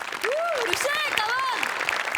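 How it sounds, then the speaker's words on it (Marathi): A studio audience at a Marathi comedy show claps in a short burst of applause while a voice speaks over it, the clapping dense and moderately loud beneath the talk. "आणि त्यासाठी या डिटेलिंगसाठी खूप खूप खूप टाळ्या"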